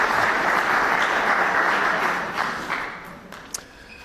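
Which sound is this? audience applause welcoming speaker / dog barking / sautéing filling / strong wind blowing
audience applause welcoming speaker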